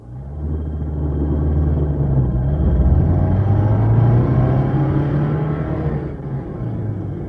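A car engine rumbles steadily, rising a little in the middle as if revving, then settling back, heard close and alone without speech.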